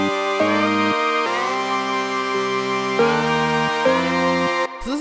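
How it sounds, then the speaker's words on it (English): Acid techno organ lays lower melody notes over a sustained synth pad, stepping between held chords in a slow pattern, loud and close with no voices. "the last thing down here is this organ, which really plays with the pad, and it sounds like this"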